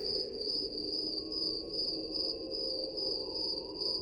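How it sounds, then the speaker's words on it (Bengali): Crickets chirp at night in a steady, pulsing high trill, continuous and fairly close, with no other sounds around them. "শুধুমাত্র ঝিঝি পোকার ডাক ছাড়া কানে আর কিচ্ছু আসছিল না"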